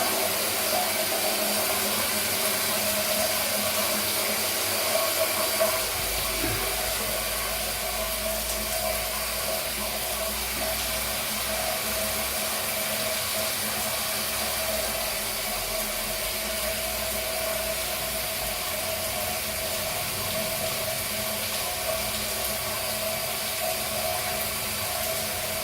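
Water runs steadily into the drain area of a shower during building repairs, a constant broadband rush with an even, droning hum, loud and close for the whole stretch with no voices.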